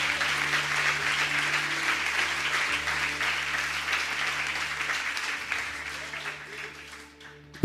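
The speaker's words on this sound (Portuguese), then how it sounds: "Você pode aplaudir o nome do arquiteto da sala do trono?" A church congregation applauds steadily, a dense wash of many hands clapping that holds for several seconds and then fades out near the end.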